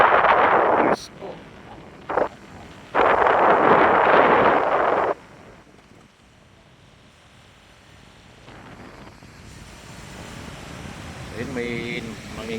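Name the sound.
breeze blowing by the sea at a resort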